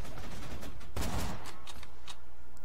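Gunfire in Borderlands 2: one loud, heavy shot blast near the start, followed by several quieter, more distant shots spaced irregularly after it.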